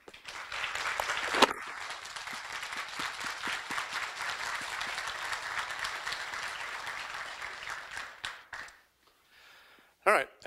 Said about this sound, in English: Please join me in a round of applause to welcome our speakers tonight.